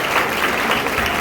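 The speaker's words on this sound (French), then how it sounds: "On dit la police, on applaudit." A brief, dense burst of audience applause, a steady wash of many hands clapping at close range lasting just over a second.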